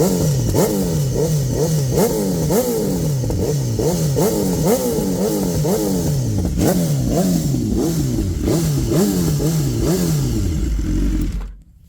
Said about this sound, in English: This is not a cold start on a 25-degree day here in filthy Cleveland.